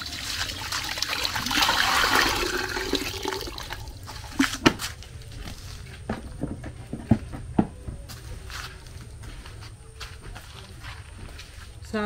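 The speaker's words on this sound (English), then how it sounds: "Hot water." Hot water poured while preparing cocoyam for a palm nut goat soup, a steady trickling stream for the first few seconds followed by quieter clinks and taps of kitchen handling.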